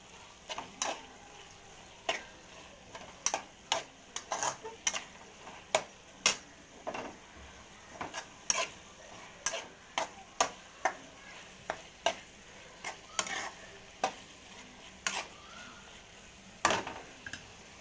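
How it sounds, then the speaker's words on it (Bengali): Coriander and cumin powder are stirred into keema frying in a pan, heard as faint, irregular spatula clicks and taps against the metal over a low, quiet sizzle. "এর মধ্যে দিয়ে দেবো ধনে গুঁড়ো, জিরে গুঁড়ো। ভালো করে নাড়াচাড়া করব।"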